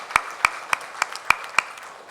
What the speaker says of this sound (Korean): 우리 박수로 축복 감사하겠습니다.